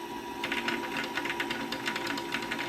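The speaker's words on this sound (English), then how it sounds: "as you can see, it's starting to fill that bobbin." A sewing machine winds thread onto a bobbin, giving a steady mechanical whir with a fast rhythmic ticking that starts about half a second in and runs to the end at moderate, close level.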